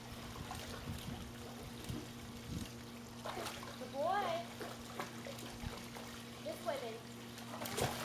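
Water runs steadily from a small waterfall, a soft continuous trickle and splash close by, while voices talk over it throughout.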